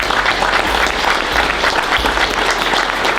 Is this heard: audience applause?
yes